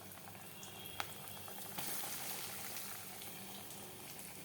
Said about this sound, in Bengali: এখন যে তেলটা দিয়ে দিলাম, এখন একটা একটা করে ভেজে নিব।